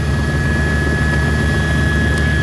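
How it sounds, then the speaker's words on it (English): A news helicopter's rotor and engine drone loud and constant from close range, a steady mechanical thrum with a whining tonal edge and no voices. "Let's go to April and Monica up in Chopper 4 with some more information"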